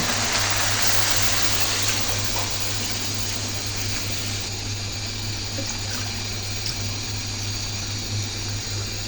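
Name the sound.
pouring a little water into the fish curry pan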